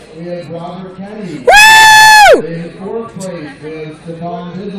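One loud, sustained high-pitched yell or cheer of about a second rises sharply over nearby talking voices at a crowded regional card game tournament, then drops away as the talk continues.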